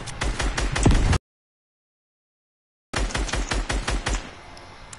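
Rapid gunfire in the Fortnite video game, fast bursts of sharp evenly spaced shots, loud and close, that stop for a moment of silence and then start up again with another quick string of shots.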